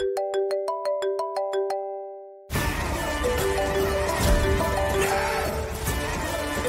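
A phone rings with a bright, repeating electronic melody of short tones for about two seconds, clear and alone, before louder mixed sound cuts in and covers it.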